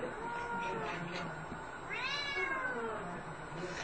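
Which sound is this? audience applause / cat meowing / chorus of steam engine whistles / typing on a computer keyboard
cat meowing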